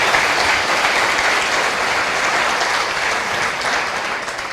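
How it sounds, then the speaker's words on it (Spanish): A church congregation claps steadily and loudly in praise to God, a dense, even wash of applause that fades slightly toward the end. "Un aplauso para el Señor, Él se lo merece."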